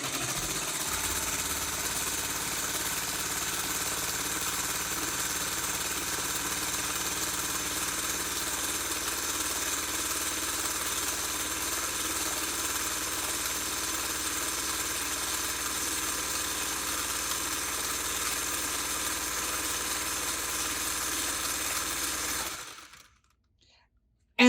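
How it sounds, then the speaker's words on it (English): A vintage Singer 301 sewing machine runs continuously through a length of fabric, a steady dense mechanical whir held for over twenty seconds before stopping abruptly. "In under a minute, we sewed an entire length of fabric."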